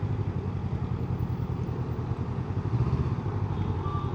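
Kawasaki motorcycle, one of a showroom lot alongside models like the Z900 and Z650 RS, rumbling at low speed while riding in to park, a steady close engine drone with no talk.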